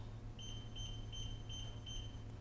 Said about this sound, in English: 5 beeps tells me that the combination has been accepted